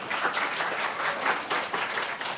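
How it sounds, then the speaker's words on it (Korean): Applause from a church congregation during an Easter service, a steady dense patter of many hands clapping together, fairly close and moderately loud, with no voices over it. "박수를 좀 쳐주세요."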